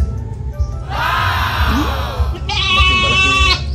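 A goat on a farm bleats loudly twice, a wavering cry followed by a higher, sharper second call, over low background noise.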